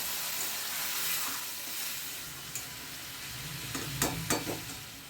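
Frying spices with broken green chillies sizzle steadily in a pan for raw jackfruit ghonto, with a few sharper crackles and spatters near the end, no voices present.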